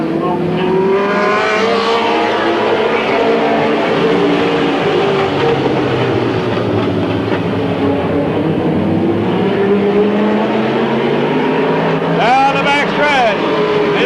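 Stock race cars at Midvale Speedway restart and roar past on a green flag, a loud steady wall of engine drone with rising and falling pitch, while an announcer calls the action over it throughout.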